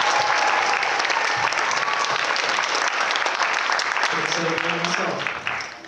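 Audience applause after a musical performance at a student Pilipino musical show, a loud, full and sustained roar of clapping from a large crowd, with a voice briefly heard under it near the end as it begins to fade.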